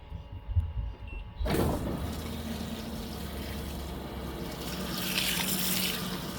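A Fisher and Paykel MW059 washing machine filling with warm water on a high water setting, a sudden steady rushing hiss of inflow that stays loud and continuous after a few soft clicks.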